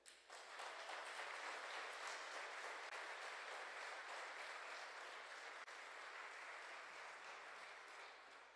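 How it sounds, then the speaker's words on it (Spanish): A church congregation breaks into sustained applause during a Spanish-language sermon, a steady, dense wash of clapping that holds evenly for several seconds at low volume before tapering slightly. "¿Cuántos aplauden eso?"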